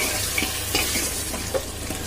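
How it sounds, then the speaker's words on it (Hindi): Ginger garlic paste frying in a pan while being stirred, a steady close sizzle with soft scraping stirs and small spatters, no voices. "अब इसको अच्छी तरीके से फिर से भून लेंगे"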